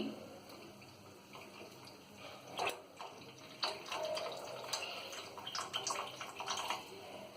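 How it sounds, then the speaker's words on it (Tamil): Tamarind water poured into a simmering okra tamarind curry (vendakkai puli kulambu) in a home kitchen, giving a soft, uneven liquid splash and trickle with a few sharper spatters, fairly quiet and close. "அப்புறமா கரைச்சி வச்சிருக்கிற புளி தண்ணி,"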